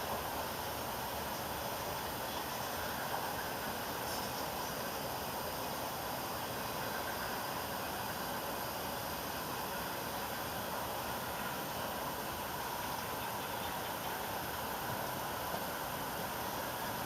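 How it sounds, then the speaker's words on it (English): A long Norfolk Southern freight train passes in Greenville, South Carolina, giving a steady, unbroken rumbling roar that holds at an even level throughout with no voices. "This is a long train."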